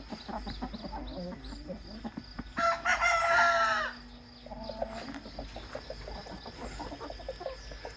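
Roosters and hens in a hen house, with one loud close crow rising over a background of steady clucking and scattered bird calls.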